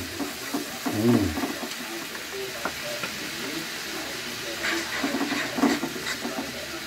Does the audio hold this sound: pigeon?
no